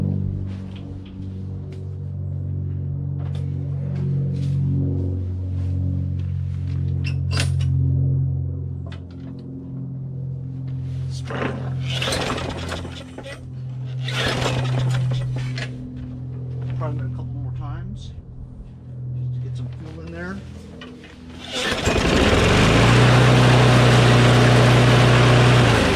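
A Craftsman push lawn mower with a Briggs & Stratton Quantum engine runs steadily at high RPM, a constant low drone close by that grows louder near the end, with a person talking over it.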